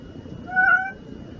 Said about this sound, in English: Don't mind the cat.